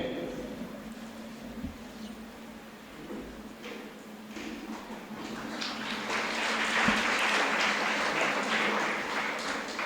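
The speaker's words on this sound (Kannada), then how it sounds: "ಅವರಿಗೆ ಜೋರಾಗಿ ಚಪ್ಪಾಳೆ ತಟ್ಟಿ ಸಾಷ್ಟಾಂಗ ಪ್ರಣಾಮಪೂರ್ವಕವಾಗಿ ಸ್ವಾಗತಿಸಬೇಕಂತ ಕೇಳ್ತೇನೆ" Applause from an audience welcoming a swami at a youth convention marking a twelfth anniversary, building from scattered claps into a steady, fuller ovation over a low hum of the hall.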